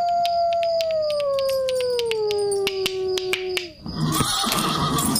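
A horse's long neigh in an animated scene, a clear whinny gliding downward in pitch over several seconds amid sharp snapping clicks, then giving way to a burst of noisy rustling commotion.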